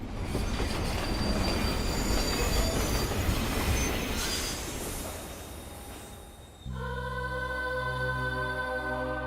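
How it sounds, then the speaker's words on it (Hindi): A train pulls into a small, long-deserted railway station, a steady loud rumble of wheels on rails that fades slightly, then a sustained horn blast takes over near the end, with no voices. "यार, इस ट्रेन को भी इसी वक्त आना था"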